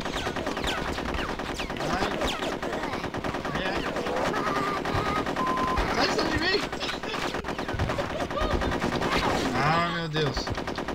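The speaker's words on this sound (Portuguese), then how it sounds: "é difícil mirar com esses metralhadores" Rapid machine gun fire crackles continuously in Conker's Bad Fur Day on the N64, layered with game sound effects and occasional voices throughout.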